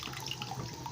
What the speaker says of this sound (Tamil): இப்போ நம்ம கரைச்சி வச்சுருக்கிற இந்த புளி தண்ணியை வந்து ஆட் பண்ணிடலாம்.